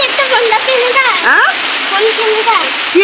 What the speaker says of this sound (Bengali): বাইরে কি বৃষ্টি পড়ছে গো